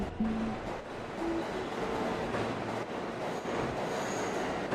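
Trains in a rail-network video game run continuously at moderate loudness, with a steady rumble of wheels on track and brief tonal squeals from wheels or horns throughout.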